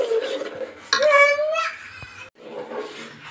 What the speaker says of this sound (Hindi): इसको तब तक टमाटो प्यूरी को तब तक भूनना है जब तक कि उसमें तेल या घी आपके ऊपर नहीं आ जाता।